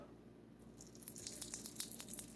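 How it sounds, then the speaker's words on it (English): A light, crackling sizzle of steak frying in hot bacon fat, soft and steady with scattered pops. "if you can hear this light sizzle"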